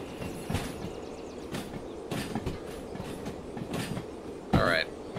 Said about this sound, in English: I like trains with a lot of momentum being able to just coast like this.